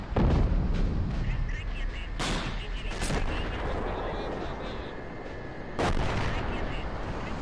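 Bombs exploding in the Cold War mod of Men of War: Assault Squad 2, with heavy booming blasts over a constant rumble of battle and two sharp bursts near the start and one near the end.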